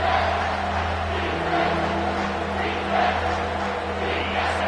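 A dense, roaring stadium crowd fills a college football game between Ohio State and Alabama, a steady, loud wash of cheering and noise with no break.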